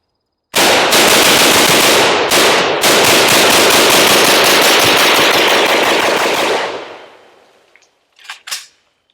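An outdoor gun fires a very loud, rapid continuous burst lasting several seconds, kicking up splashing mud, then cuts off, leaving a couple of faint brief sounds afterward and no talking.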